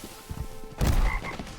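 A frog croak from the Jujutsu Shenanigans video game: a low, buzzy burst after soft rumbling, followed by a brief thud and a few short tonal blips.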